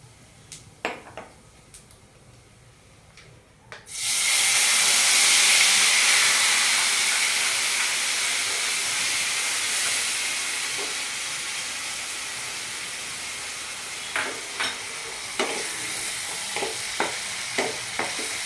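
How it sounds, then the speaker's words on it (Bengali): Cumin and turmeric tempering sizzles in a pan as it is stirred for palak paneer: a sudden loud hissing sizzle bursts in after a few seconds of quiet clinks, then settles into a steady hiss with sharp spoon scrapes toward the end. "ফোড়নটা একটু নাড়াচাড়া করে নিচ্ছি। জিরেটা হয়ে গেছে, একটু আমি হলুদ দিচ্ছি আগে"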